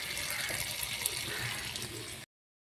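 Green spinach leaves swished and rinsed under running water in a kitchen, a steady close splashing wash lasting about two seconds before cutting to silence.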